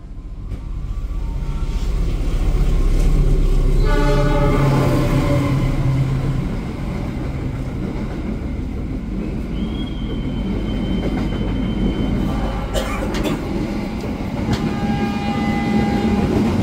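The Sawunggalih Economy Premium train runs non-stop on the Jakarta–Purwokerto line near Bumiayu: a loud, continuous rail rumble with rhythmic wheel clatter and a thin metallic squeal partway through, and no voices.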